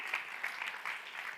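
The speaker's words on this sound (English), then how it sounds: "Give them a round of applause." Brief burst of audience applause at a quiz contest as a team doubles its points, steady and fairly faint with a few louder swells, no talking over it.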